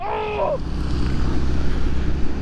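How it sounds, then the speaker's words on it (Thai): Heavy rain pours down in a severe afternoon storm with strong wind in Amata City, Chonburi, a steady broadband roar that fills the whole clip, with a brief voice at the start. "ชนบุรีวันนี้ฝนตกหนักมากทุกคน"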